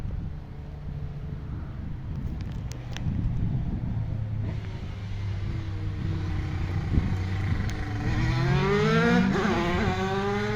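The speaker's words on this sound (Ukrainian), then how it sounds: "Якісь байкери ганяють." Motorbikes roar past in a continuous drone, with rising and falling pitch sweeps near the end as a fast bike speeds by close, under wind noise.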